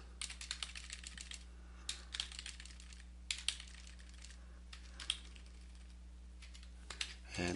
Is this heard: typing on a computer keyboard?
yes